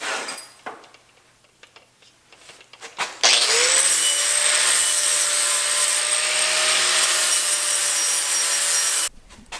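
A flap disc grinder cleans a 409 stainless steel exhaust pipe, a steady high-pitched abrasive whine with a low motor hum that starts abruptly after a few seconds of quiet and runs continuously before cutting off.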